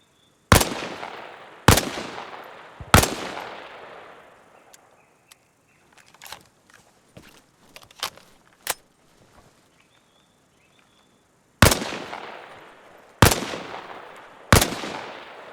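Rifle shots on a training range in the military game Arma Reforger, fired from behind a wall: three loud, sharp cracks with echoing tails, a lull of faint clicks and taps, then three more shots.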